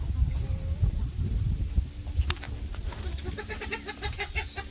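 A rooster crows close by, its call rising and breaking into a ragged series of notes over rustling and shuffling.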